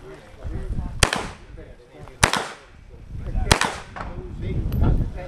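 Three sharp, loud submachine gun shots ring out at spaced intervals on an outdoor shooting competition stage, with a steady rumble of background noise between them.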